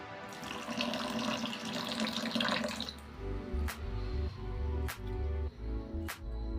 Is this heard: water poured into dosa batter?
yes